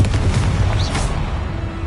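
A Confringo blasting-spell explosion in Hogwarts Legacy bursts out loud and close as a single booming blast with a short whoosh, then fades into a rumbling tail.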